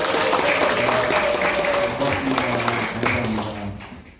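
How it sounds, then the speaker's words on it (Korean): An audience at a public lecture claps warmly for a few seconds, with a full burst of applause that fades out near the end while a voice speaks faintly underneath. "박수 한번 주셔요"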